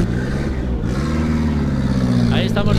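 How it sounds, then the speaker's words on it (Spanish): Race car engine at the Alp2500 hill climb idling and revving nearby, a loud continuous throaty drone with a brief sharp rise near the end, and a voice faintly underneath. "Ahí estamos viendo el coche nuevo"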